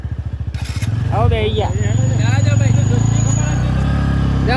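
Motorcycles idle and rev as friends set off on three bikes toward the Mokeshwar dam, a loud, steady, close engine putter with voices talking over it.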